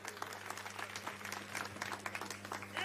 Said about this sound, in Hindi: अरविंद केजरीवाल जी के लिए जोरदार तालियां बजाइए।